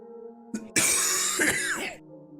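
Someone coughs and clears their throat late at night, with a few harsh, close bursts in quick succession that rise loud over a quiet background and then fade.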